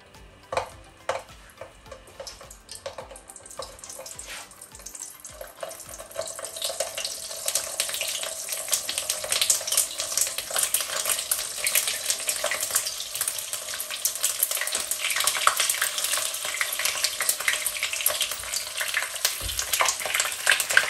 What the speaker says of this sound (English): But I think my oil is hot now. I'm going to carefully put the pepper in there.